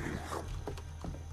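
Zombies in the survival game Unturned let out low, rough growls and snarls, brief and gravelly, heard close over the game's background noise.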